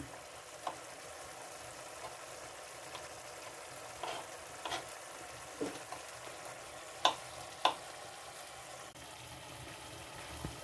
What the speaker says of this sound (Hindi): ये देखें फ्रेंड्स अदरक लहसुन जो है वो थोड़ा सा सौते हो गया है, खुशबू आ रही है।